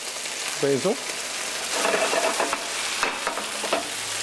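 A pan of gnocchi sauce ingredients with herbs being sautéed, a soft sizzling hiss with stirring scrapes running steadily throughout, a short voiced sound near the start.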